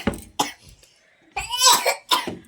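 A young girl with a bad throat coughs four times in quick, harsh bursts, close by in a quiet room, with short pauses between them.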